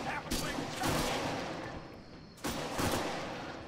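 Rifle fire with tracer rounds in the military shooter video game Arma 3, a handful of sharp, fairly loud reports spread across a few seconds, each trailing off with a rumbling echo.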